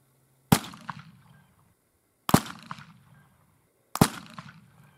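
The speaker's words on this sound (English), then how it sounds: "let's try shooting a stack of 2x6s so that we can compare the penetration" Three loud rifle shots firing Minie balls into a stack of 2x6 boards, each a sharp crack with a short decaying echo, spaced about two seconds apart with quiet between.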